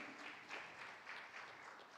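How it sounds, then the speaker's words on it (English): Faint, distant applause from a symposium audience for invited speakers, a soft steady patter of many hands lasting about two seconds. "can we have big applause for all of the incredible invited speakers"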